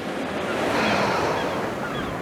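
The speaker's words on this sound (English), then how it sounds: "listening to the waves." Ocean waves breaking on the coast make a continuous, full wash of surf with a gentle swell in the middle, heard alone with no voices.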